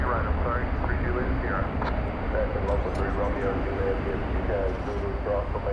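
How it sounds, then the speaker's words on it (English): An Airbus A321 in US Airways retro livery, arriving at DFW from Seattle, gives a steady, continuous jet engine rumble, with a voice talking over it throughout. "727, operated by an Airbus A321 coming in from Seattle"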